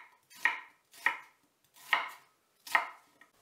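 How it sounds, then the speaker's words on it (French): Four evenly spaced knife strokes chop an onion into pieces on a board, each a sharp close thud with a short crunchy tail, separated by silence. "Je coupe en morceaux un oignon"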